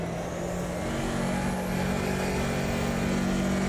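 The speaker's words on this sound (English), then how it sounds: "You can hear the turbo on this car." A turbocharged race car in the sim racing game Automobilista 2 drones loudly at sustained high revs while lapping the historic Nürburgring Nordschleife. The dense engine roar holds steady and close throughout, with no speech.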